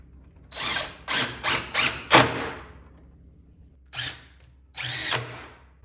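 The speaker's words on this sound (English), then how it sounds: "I am pre-drilling these." A power drill pre-drills holes in wood for a chicken tractor, with a quick burst of five short whirring pulses, a pause, then two more runs, close and clear with no talk.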